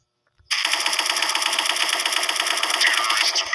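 Sustained automatic AK rifle fire in a first-person shooter game, a loud continuous burst of rapid rhythmic shots lasting about three seconds after a brief silence.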